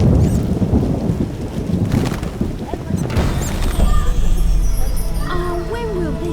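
Rain and thunder in the video game The Witcher: heavy rain hisses steadily while deep thunder rumbles and cracks, joined later by a tonal musical or ambient layer, loud and continuous.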